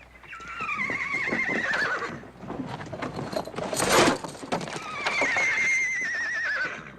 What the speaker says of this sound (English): Horse I traded Harry Dixon for.